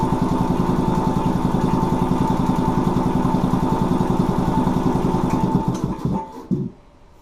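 A Quincy 310 air compressor runs with a fast, even mechanical chugging, loud and close, then slows, stutters and shuts down near the end, leaving quiet.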